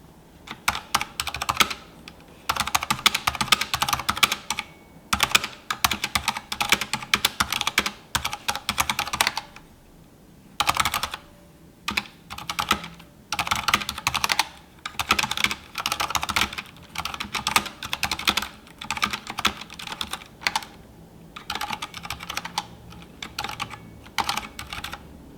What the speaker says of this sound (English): Quick sound check with the Cherry MX Red silent switches.